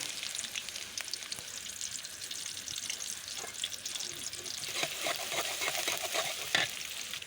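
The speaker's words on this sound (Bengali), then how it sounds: "পেঁয়াজটা একটু ভাজা ভাজা করে নেব" Chopped onions frying in hot mustard oil in a wok, a soft, continuous sizzle with faint crackles and occasional scraping stirs, close by and fairly quiet, no talking.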